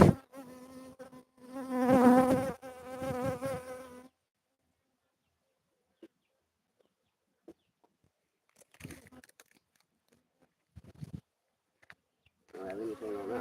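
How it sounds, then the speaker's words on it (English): Bees buzzing around a beehive, a loud close drone for the first few seconds, then scattered short buzzes and quieter gaps, with a voice talking intermittently. "It's the bee."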